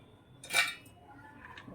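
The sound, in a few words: crushing cooled rava ladoo mixture into crumbs in dish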